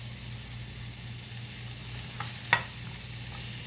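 Carbonara ingredients cook down in a pan with a steady, even sizzle, and a single light utensil tap comes partway through.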